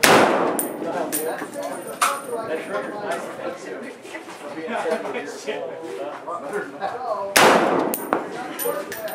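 Sharp metallic clangs from distant gunshots hitting steel targets ring out at an Arizona shooting range amid ongoing talk, with a strong impact near the end followed by more voices.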